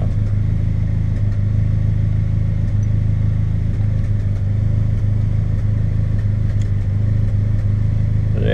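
A Suzuki X90 engine idles steadily and close by with a rough, uneven misfire, its low rumble continuous throughout and no voices over it.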